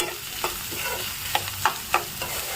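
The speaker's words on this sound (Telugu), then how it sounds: "ఇప్పుడు ఈ ఉల్లిపాయ ముక్కలు పచ్చిమిరకాయ ముక్కలు కలర్ వచ్చేంత వరకు వేయించుకోవాలండి" Onion and green chilli pieces frying in a pan for a jackfruit seed curry, with a low steady sizzle and a few distinct spoon scrapes and taps against the pan, close and alone without voices.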